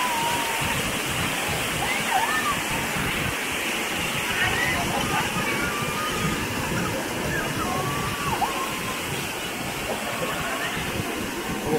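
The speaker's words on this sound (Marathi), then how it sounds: "खाली आहे सुंदरसा धबधबा" The Savdav waterfall in rural Konkan roars in a loud, continuous rush of falling water, with people's voices scattered faintly through the steady wash.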